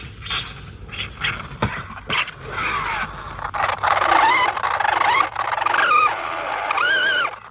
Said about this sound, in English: It sounds like the pinion. It's so loud now.